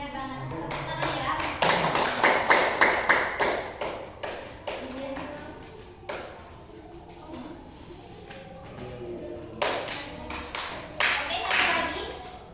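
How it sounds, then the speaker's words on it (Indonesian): Classroom clapping for a correct answer, several bursts of sharp hand claps from a group of students, coming in uneven waves with pauses between, fairly close in a room. "Tepuk tangan ya."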